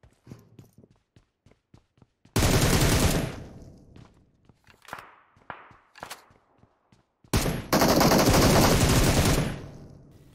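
Gunfire in PUBG Mobile: scattered single shots and footsteps give way to two long, loud bursts of rapid automatic fire, with shorter cracks in between.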